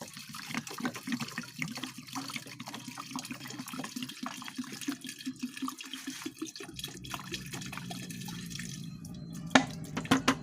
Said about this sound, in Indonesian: Oke, kita masukkan 2 liter air sini.